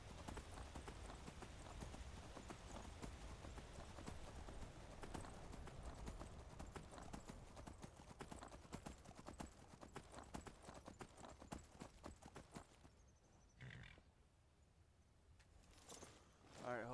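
Rapid rhythmic hoofbeats of a galloping horse in Skyrim, loud and steady, then trailing off near the end with a brief snort or whinny.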